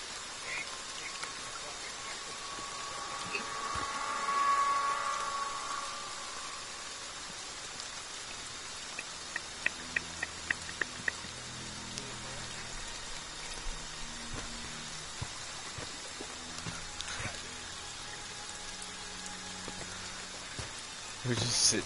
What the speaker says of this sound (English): We're just sitting here in the rain.